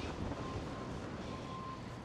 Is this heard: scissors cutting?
no